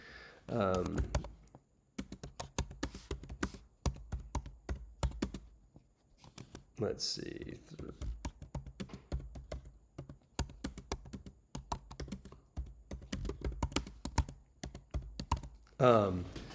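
Rapid clicking of computer keys comes in bursts, close and crisp, with a person talking briefly between stretches of typing.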